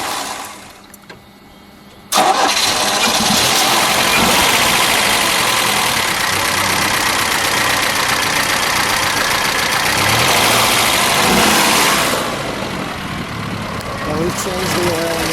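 After a moment of quiet, a 1973 Chevrolet Vega engine fires up abruptly and settles into a loud, steady idle with a rough, rattling rumble.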